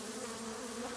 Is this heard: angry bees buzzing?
yes